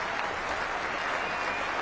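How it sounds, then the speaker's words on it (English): A cricket crowd at a 1996 one-day international in Manchester cheers and applauds a batsman's half century, a dense, steady roar of clapping that fills the whole moment. "And the cheer goes up for Michael Atherton's half century"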